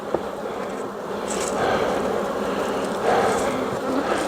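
A dense, steady buzzing of many honeybees at a hive entrance, close and continuous, with the swarm sound swelling slightly at moments.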